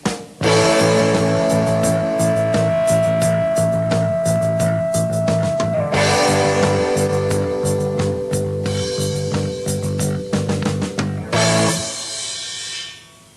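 A heavy metal band plays together, the bass locked to the hi-hat in a steady repeated rhythm, with sustained guitar chords that change twice. Loud and close, with no talk.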